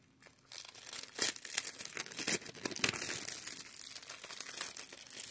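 Plastic wrap torn off a Blu-ray case, with close crinkling and tearing that runs steadily across several seconds in quick bursts of rustle.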